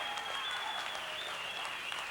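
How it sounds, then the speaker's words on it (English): Boxing crowd applauding two young pro fighters after their bout, brief continuous clapping with a faint steady tone running beneath it. "These young boxers another round of applause"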